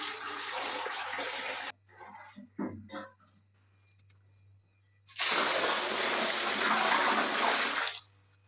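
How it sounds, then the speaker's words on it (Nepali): Water poured onto rice in a home kitchen before dawn, heard as two loud splashing gushes, the first brief and the second longer, separated by quiet moments with faint clinks and handling noises. "चामलमा पानी हाल्दैछ।"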